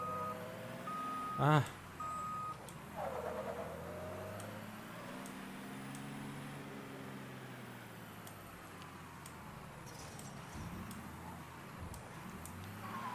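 Truck reversing beeps in the Mafia 3 video game, a short run of steady electronic beeps near the start, followed by engine and street noise while a man exclaims briefly.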